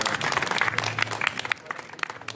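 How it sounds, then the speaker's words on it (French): Audience clapping for a volunteer at a live magic show, a burst of many hands applauding fairly near, thinning out toward the end, with a voice speaking briefly over the claps. "On applaudit très fort madame, s'il vous plaît."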